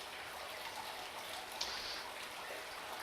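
Running shower water plays as an ambient sound in a shower area of a Skyrim mod: a faint, steady hiss of spray and trickling drops continues throughout with no pauses.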